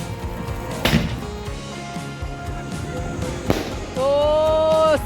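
A Diwali firework rocket launching outdoors during Kali Puja night, with sharp bangs and pops near the start and middle, followed by a rising whistling whoosh that holds until the end.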